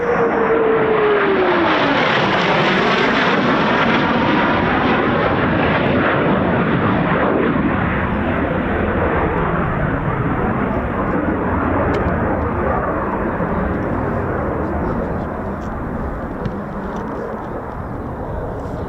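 A Eurofighter Typhoon FGR4 jet roars past at RAF Coningsby, a loud, sustained engine rumble and whoosh that sweeps in close and then slowly fades as it moves away.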